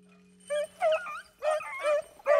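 Hunting dogs chasing a rabbit on a Kentucky small-game hunt give a string of high whimpering yips and short barks in quick bursts, close and fairly loud, with no talk over them.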